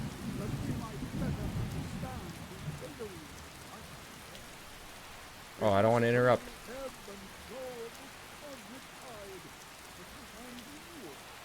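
Steady rain hisses through a thunderstorm in Skyrim, with low rumbling early on. A character's brief line cuts in midway, and someone talks over the storm.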